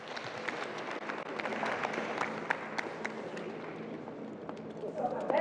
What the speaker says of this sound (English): A hand of applause for our Director General, Peter Limburg